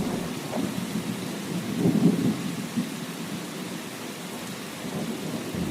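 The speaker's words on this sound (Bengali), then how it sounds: "এই ঝড় বৃষ্টির দিনে একটাই জ্বালা" A thunderstorm with heavy rain in an animated story: a continuous dense downpour with low, rolling thunder rumbles swelling near the middle, no voices.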